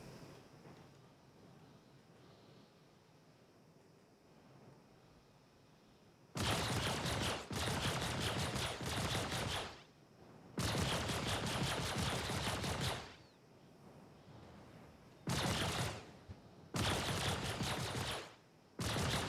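Ship guns blasting in Star Citizen, loud sustained bursts of rapid fire separated by short pauses, standing alone with no talk.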